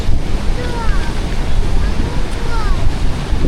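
Big sea waves break against a seafront embankment in Vietnam, a steady loud roar of surf mixed with wind buffeting the microphone, continuous throughout with faint voices in the background.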